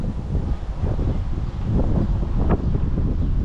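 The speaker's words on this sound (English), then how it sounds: "I gotta wait the wind gust out" Wind buffeting a microphone outdoors at a rat rod car show, a continuous low roaring rumble with irregular gusting surges throughout.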